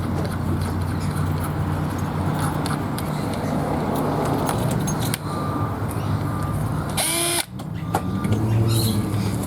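A power drill bores a hole with a step bit during a B&M shifter install in a wagon, a loud continuous whir that briefly drops out and then resumes.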